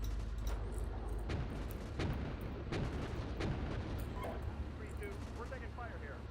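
Gunfire and artillery booms in the tank simulation game Steel Beasts Pro PE, several sharp distant reports and thuds at uneven intervals over a rumbling battlefield, with radio voices talking underneath.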